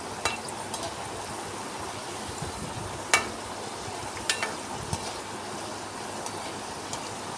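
Gram flour (besan) nimki deep-frying in hot oil gives a steady, close bubbling sizzle with scattered sharp pops and crackles throughout.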